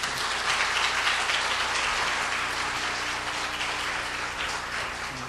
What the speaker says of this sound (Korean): 뜨거운 박수로 권수영 박사님 환영하겠습니다